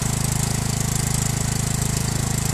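A Senci SC7000R generator starts by remote with its choke set automatically, its engine running as a loud, fast, even rhythmic chug that fills the whole clip with no talk.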